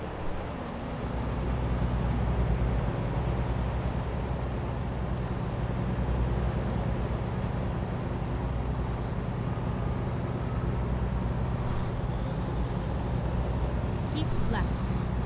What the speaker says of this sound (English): Certainly sounds more like a bustling city full of trucks and cars.